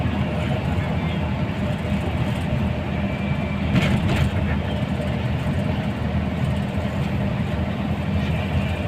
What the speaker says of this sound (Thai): รอดูรถไฟดีกว่าครับ